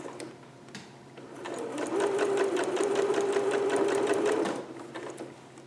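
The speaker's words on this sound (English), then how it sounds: "I'm just going to go right on top of that basting that I did, stitch, back stitch, and then just follow that" A sewing machine runs steadily for a few seconds, stitching a permanent seam over basting on a Vogue 8280 garment, its fast rhythmic needle hum close and clear with no talk.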